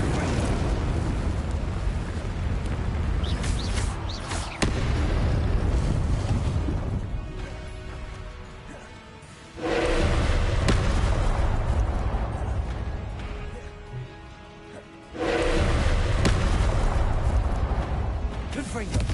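Spell blasts of Incendio and Confringo in the Hogwarts Legacy video game, loud bursts and rumbling fiery roars in long swelling waves with brief gaps, while a player calls out spell names over them.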